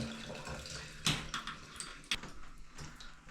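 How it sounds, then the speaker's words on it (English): Water from a freshly cleaned shower head streams steadily, a soft broadband spray with a few sharp knocks and clatters on top, fairly quiet and heard without anyone speaking. "you see the water is coming out really nice"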